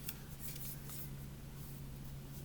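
Soft papery rustling and brushing of tarot cards being shuffled, steady and close, with a low hum underneath.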